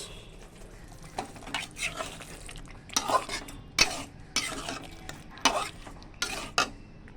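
A spoon scrapes and stirs potatoes and koi fish through hot spiced oil in a pan, in uneven bursts of clatter over a low sizzle, close up.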